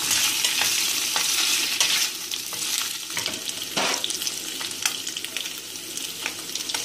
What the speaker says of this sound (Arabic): انا حطيت اللسان بس وهحمره كده في السمن شويه كده لحد ما ياخد لون